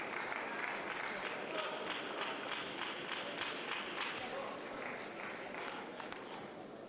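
Spectators cheering and applauding at a European Championships table tennis team match, a dense sustained clapping wash with crowd noise, fairly faint and distant, lasting several seconds.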